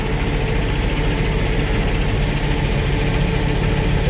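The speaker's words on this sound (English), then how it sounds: "I hear another truck running" A semi truck engine idles at a distribution-center loading dock in Houston, Texas. It makes a continuous, heavy low rumble that holds steady and fairly loud throughout, with no talking.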